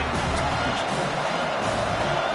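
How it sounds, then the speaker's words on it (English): Constant stadium crowd noise from a college football video game, a loud, dense roar with faint cheering filling the whole short stretch. "This crowd bringing the energy and noise early."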